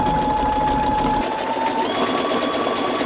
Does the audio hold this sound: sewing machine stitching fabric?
yes